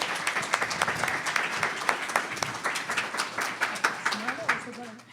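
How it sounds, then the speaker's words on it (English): An audience at a mayoral candidates forum applauding, dense sustained clapping from a roomful of people with a voice speaking briefly near the end. "let's give them a round of applause"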